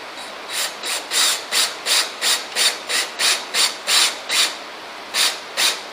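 A screw being driven into an antique dining table, about a dozen evenly spaced short rasping bursts in a steady rhythm, close and fairly clear with no talk.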